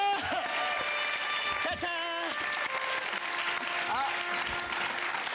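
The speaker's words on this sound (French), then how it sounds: "je vous demande donc d'applaudir ma nouvelle découverte" A television studio audience on a French variety show applauds the introduction of a performer, broad clapping running throughout while voices speak and call out over it.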